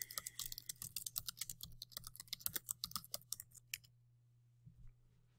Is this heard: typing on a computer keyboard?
yes